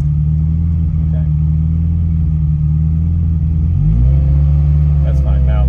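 A vintage Ferrari engine idles with a loud, close, steady rumble, then revs up as the driver works the clutch and gas pedal. The engine holds the raised pitch afterward while a voice talks over it.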